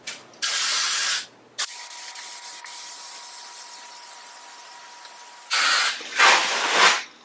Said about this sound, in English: Next thing I'm going to do is use the spray adhesive, and I'm just going to coat this whole thing